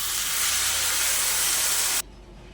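Water poured into a hot pan of fried rice for basanti pulao sets off a loud, steady hiss of steam and sizzling that cuts off abruptly after about two seconds, leaving a faint low rumble.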